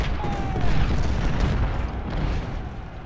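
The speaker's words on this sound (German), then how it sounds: "Feuer da mit den Kanonen drauf" Cannon fire from a Civil War battle in the strategy game Ultimate General: Civil War, a dense rumbling barrage of booms rolling continuously at moderate loudness with no talk over it.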